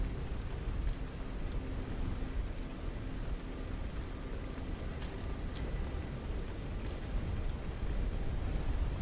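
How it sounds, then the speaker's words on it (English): Steady rain patters down in the GAMMA survival game, a continuous broadband hiss that stays even and fairly loud throughout, with a couple of faint clicks and no talk. "I can't, it's raining though, so I can't hear footsteps."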